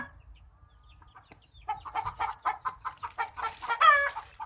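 Chickens cluck in a quick, uneven series nearby, building in loudness, with a higher squawking call near the end.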